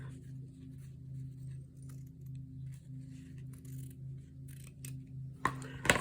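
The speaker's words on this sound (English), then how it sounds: "I'm going to take the corners of this and just trim it at an angle so I don't have so much to fold." Scissors trimming the corners of paper at an angle for a squishy junk journal, a handful of crisp snips close by over a low steady hum, ending in a louder rustle of handled paper.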